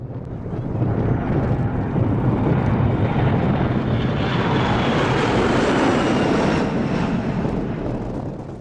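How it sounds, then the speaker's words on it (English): A C-17 military transport jet on a maximum-power takeoff at Manchester Airport gives a loud, sustained engine roar. It swells in over the first second, holds steady and broad for about seven seconds, then eases slightly at the end. No voices are heard. "you're driving a C-17 and performing a max engine takeoff"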